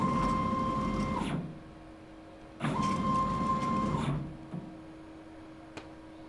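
Y-axis of a 4x4 CNC plasma table travelling in two runs of about a second and a half each, a steady motor whine with a tonal hum, followed by faint clicks in a quiet room.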